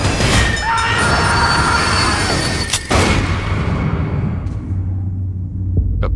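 The Orient Express rumbles along the rails in a movie trailer, a loud, dense roar with squealing wheels and clattering cars that thins out and fades over several seconds.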